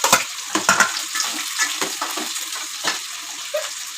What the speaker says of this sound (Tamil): வெங்காயம் போட்டாச்சு. நல்லா கொஞ்சம் ஒரு வணக்கி விடணும்.